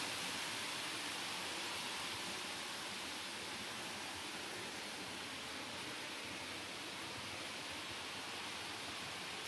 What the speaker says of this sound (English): The sound of the water flowing over the rocks is